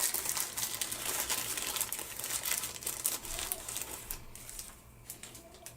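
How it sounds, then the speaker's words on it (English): Thick styrofoam packaging handled up close, giving continuous squeaky crinkling and rubbing, fairly quiet and alone. "This is like a really thick styrofoam right here."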